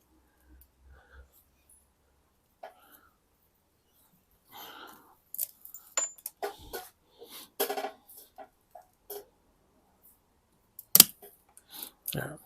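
Pruning shears snip and click at a Shimpaku juniper bonsai while a branch is cut away, giving a loose series of close, sharp snips and rustles with one louder crisp cut near the end. The setting is otherwise quiet.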